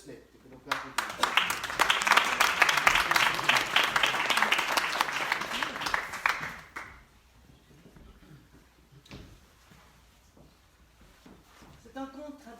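Audience applause for a storyteller at a tale-telling evening in Liège, dense steady clapping for about six seconds that then fades out into quiet room tone and faint talk.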